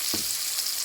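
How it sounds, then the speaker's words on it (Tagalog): Garlic, onions and ginger sauté in a pan, a brief soft sizzle with a single low clunk near the start. "So gisa-gisa tayo ng garlic, onions, ginger."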